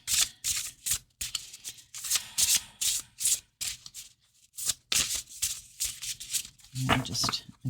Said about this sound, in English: So being able to get a good shuffle is everything.